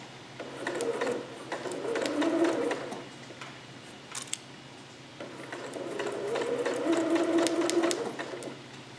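A sewing machine stitches fabric along a garment seam, with back stitching: two sustained runs of steady, fairly close mechanical whirring, separated by a quieter pause with a few small clicks, and no talking.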